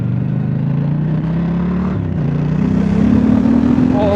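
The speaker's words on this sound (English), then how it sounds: "You still got that specific Triumph rumble as well" A Triumph Scrambler 1200 X motorcycle engine rumbles close and loud as it's ridden, a steady low throb that dips briefly before the revs climb smoothly.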